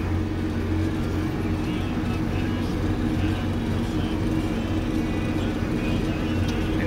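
A tractor pulling a boom sprayer drives across a field, its engine giving a steady, unbroken low rumble throughout with no voices over it.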